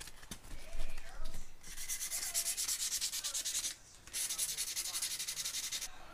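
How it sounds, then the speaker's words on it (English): Sandpaper scuffs the reel seat of a musky or swimbait fishing rod in quick back-and-forth strokes, a close, bright rasping rhythm that pauses briefly midway before resuming. "I'm just going to take a little bit of sandpaper, give the entire reel seat a little bit of a scuff"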